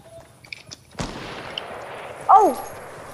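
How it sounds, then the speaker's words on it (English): One sharp, loud video game gunshot cracks and rings out with a decaying tail, preceded by faint clicks and followed by a brief short voice exclamation. "Someone's trying to shoot me."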